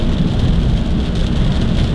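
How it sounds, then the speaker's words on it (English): Steady rain falls in a dense, continuous hiss, loud and close, with a low rumble underneath and no voices. "I'm glad it's raining today"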